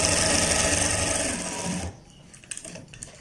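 Sewing machine running a fast continuous stitch on the front placket of a kid's kurta, close and loud, then stopping abruptly, followed by a few faint handling clicks.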